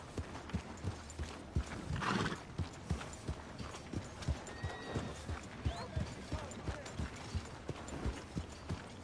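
Horse hooves clip-clop in steady rhythm through a video game scene, a near repeating patter of hoofbeats with occasional voices and game sounds mixed in.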